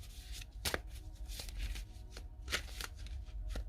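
Tarot cards shuffled and flicked down by hand in a quiet room, a series of crisp riffling bursts and soft slaps spread unevenly across a few seconds, close and clear with no talking.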